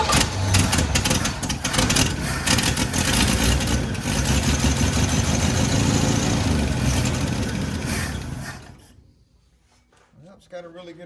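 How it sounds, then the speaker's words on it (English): A 1971 Chevrolet C10 engine runs loud and close with a ragged, chuffing exhaust-leak rasp and uneven rev pulses before dying out near the end, followed by a few faint handling noises. "got a really good exhaust leak."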